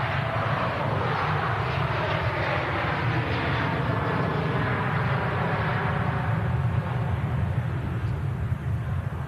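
A Jet2 airliner rolls on the runway, a steady, broad jet engine roar with low rumble that holds constant and fairly loud throughout, with no talk over it.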